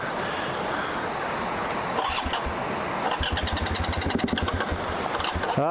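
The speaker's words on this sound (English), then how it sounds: "Bike won't start." A Yamaha TR701 trail motorcycle that won't start cranks against a wind-like background hiss, first in a couple of short attempts, then in a longer run of rapid, rhythmic turning-over pulses that never catch.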